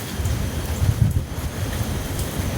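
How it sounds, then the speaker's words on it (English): Strong wind buffets a camper van during a snowstorm, a constant low rumble of gusts and mic-battering roar from inside, fairly loud, with no talk. "The van's shaking because of the wind."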